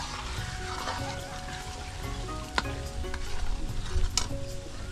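Fish being mixed by hand or spoon with dry chilli powder for a pickle, 3 kilos of fish with 50 grams of powder, giving a steady wet squelching and stirring texture with a sharp clink midway and another near the end.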